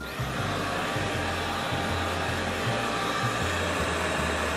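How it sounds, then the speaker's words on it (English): Robot vacuum steered manually by remote control gives a steady, close, even whirring motor hum with a faint pulsing rumble underneath, heard alone without talk. "So you can actually vacuum the floor manually if you want to, instead of automatic."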